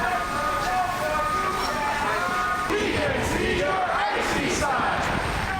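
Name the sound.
crowd of protesters at Minneapolis-St. Paul airport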